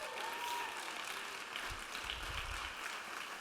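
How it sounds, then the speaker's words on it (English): Audience at a faculty poetry reading gives a round of applause, a fairly quiet, even patter of many hands heard from a distance in a room, with no speech over it. "Please give yourself a big round of applause."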